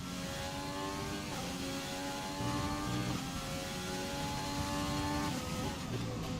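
F1 race car braking in the video game F1 2020 at the British GP, a dense high engine drone that shifts pitch with downshifts, loud and continuous throughout.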